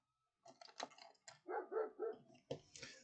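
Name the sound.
dog barking in a field near the shop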